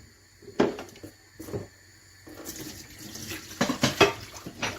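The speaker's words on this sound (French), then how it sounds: "La première des choses, c'est que je vais enlever l'eau qui est ici." Water being drained off plums in a kitchen, with short splashes and pours, a couple of brief knocks early and a longer, louder stream of running water in the second half.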